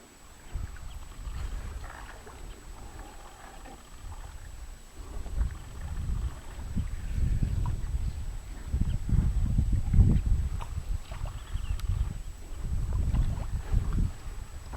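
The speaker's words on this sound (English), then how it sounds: "Pulling back into the harbor to end our boat journey out into Kafue Flats." A motorboat pulling back into the harbor at the end of a trip on the Kafue Flats wetlands, its engine a low rumbling drone that swells louder and churns unevenly as it comes in, with no one speaking.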